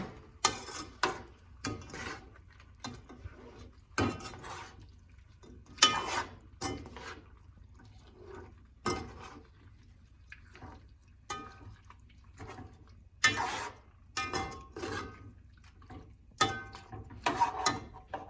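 Pork and sugar being stirred in a cooking pot for caramelized pork and eggs, giving irregular close scraping and knocking strokes with quiet wet, sticky sounds between them, no talk.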